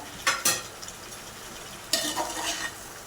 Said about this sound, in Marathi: मसाले आणि मुंडी एकजीव करून मिक्स करून घेऊया